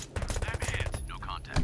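Enemy gunfire in the Door Kickers video game, a rapid burst of shots rattling close in, loud and quick, with someone talking over it.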